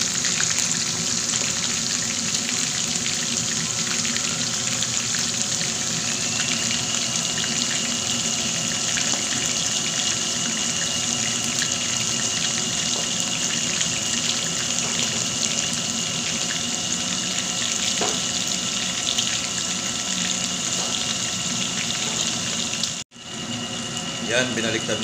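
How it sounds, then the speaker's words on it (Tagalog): Salmon frying in hot cooking oil, a dense steady sizzle and crackle running throughout at close range, with a voice talking over it, then a brief cut near the end. "nagpainit na ako ng ano, mantika para sa pag-fried natin ng salmon"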